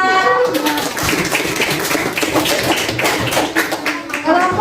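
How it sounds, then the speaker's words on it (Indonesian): Classroom group of students clapping hands together for a presenting team, a dense steady patter of many hands filling the room, with some voices mixed in. "tepuk tangan."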